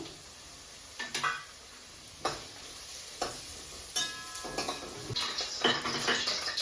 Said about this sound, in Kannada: ಇವಾಗ ನಾನು ಒಂದು ಸ್ಪೂನ್ ಆಗುವಷ್ಟು ಜೀರಿಗೆ ಒಂದು ಮೂರು ಏಲಕ್ಕಿ ಒಂದು ಚಕ್ಕೆ ಪೀಸ್ ಹಾಗೆ ಒಂದು ಐದು ಲವಂಗನ ತಗೊಂಡಿದ್ದೀನಿ ಇದನ್ನ ನಾನು ಸ್ವಲ್ಪ ಎಣ್ಣೆಯಲ್ಲಿ ಫ್ರೈ ಮಾಡ್ಕೊಳ್ತೀನಿ